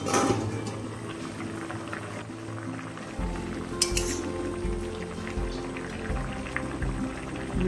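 Potatoes boil in a covered pan on the stove for a samosa filling, a steady bubbling simmer with soft lid rattle and a brief clink near the middle, continuous and close with no talking.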